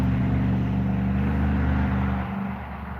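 A truck on an outdoor road rolls past with a loud, steady engine drone that stays close, then eases and thins out near the end, with no voices.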